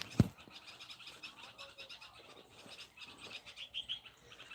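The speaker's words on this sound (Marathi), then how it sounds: "पक्ष्यांचा आवाज किती मस्त येतोय" Faint bird chirps and calls repeat in the distance at dawn over a quiet outdoor background, with a sharp knock near the start and possible frog croaks.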